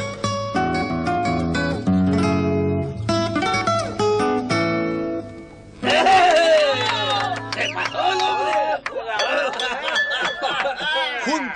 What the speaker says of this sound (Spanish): Junto con los aplausos y la algarabía que premiaban al musiquero